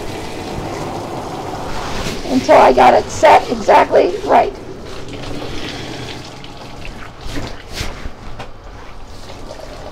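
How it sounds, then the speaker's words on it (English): Tap water runs into a bathtub as a dog is being bathed, splashing in bursts and then settling into a softer steady flow, with a person talking over it. "We're going to turn on the water."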